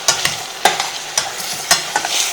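Salted potatoes fry with a steady sizzle in a pan while a spoon stirs them, giving about five sharp scraping strokes at irregular intervals over the continuous crackle.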